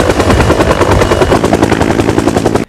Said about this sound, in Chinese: 这是直升机螺旋桨的噪音